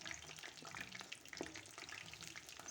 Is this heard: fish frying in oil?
yes